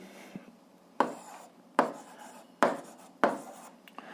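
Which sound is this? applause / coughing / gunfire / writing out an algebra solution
writing out an algebra solution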